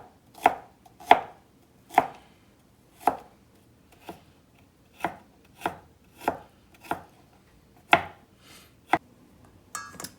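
A knife chops garlic cloves and a knob of ginger on a cutting board, about a dozen sharp, distinct knocks at an uneven, unhurried pace, close by in an otherwise quiet kitchen.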